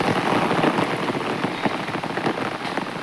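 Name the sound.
heavy rain falling outside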